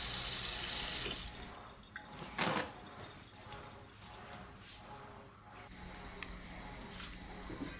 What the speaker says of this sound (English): I'm just going to wash over them real quick